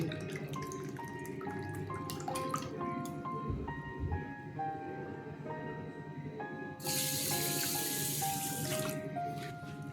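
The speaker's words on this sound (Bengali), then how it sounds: "এখানে এক বাটি চিনি নিলাম আর এক বাটি জল দিয়ে দিচ্ছি" Water pours into a pan with sugar to make syrup for basbousa, a bright splashing rush arriving in the final few seconds after quieter clinking and tapping of kitchen utensils.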